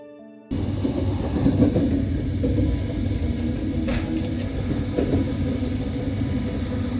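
After a brief quiet moment, a steady low rumble of an overnight sleeper train takes over, with soft rhythmic clatter and occasional knocks, heard from inside.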